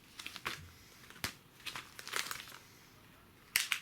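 A white plastic shipping bag from GearBest crinkles close up in quiet, irregular crackles and rustles, with a sharper burst near the end and no voices.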